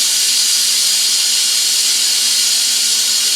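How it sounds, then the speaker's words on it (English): Steam hisses loudly and steadily from a pressure cooker's release valve, a continuous, close, unbroken rush with a faint low hum beneath and no voices. "You just hold it up until the steam stops coming out."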